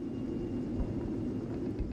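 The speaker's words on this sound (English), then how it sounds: "And his big helicopter." A big helicopter in the Call of Duty Modern Warfare video game, a steady low droning rumble that holds evenly throughout, fairly distant and dense, with no talk over it.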